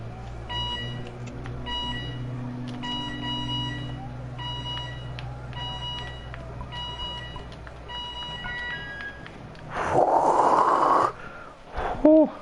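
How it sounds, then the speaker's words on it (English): An alarm goes off in the video game The Occupation, a repeating electronic beeping pattern over a low hum, ending with a louder rising tone burst near the end; no one speaks. "That's an alarm."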